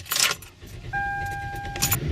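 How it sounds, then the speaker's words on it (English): Keys jingle briefly, then a car engine turns over after a battery reconnection and settles into a steady hum during its idle relearn, with another rattle of keys near the end. "So you start the car."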